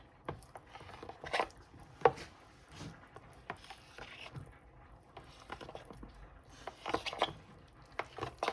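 Knife slicing soft tofu into small cubes, a series of faint, quiet taps and soft squishy cuts spaced irregularly with no talking.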